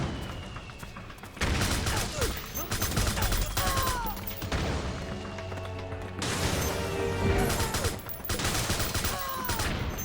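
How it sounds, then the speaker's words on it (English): Suppressing gunfire in the video game Metal Gear Solid 4 comes in loud bursts of shots and crashes with brief quieter gaps between them. Faint voices can be heard under the firing. "Suppressing fire!"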